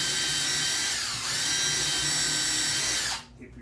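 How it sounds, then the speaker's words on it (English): A power drill bores a hole in wood during a DIY table saw sled build, a steady high whine for about three seconds before spinning down and stopping, close and loud. "If your drill's not drilling, check the direction."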